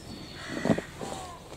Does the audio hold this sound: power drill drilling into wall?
no